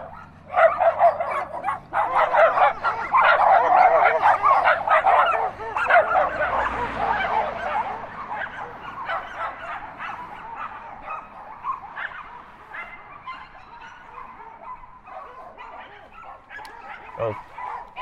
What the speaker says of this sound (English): A lot of like little Yorkies over there trying to bark at me.